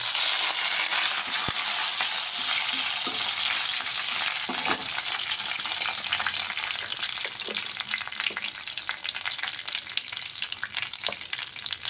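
Mustard seeds and curry leaves temper in hot oil for upma, giving a dense, steady crackling sizzle with scattered sharp pops, close and continuous.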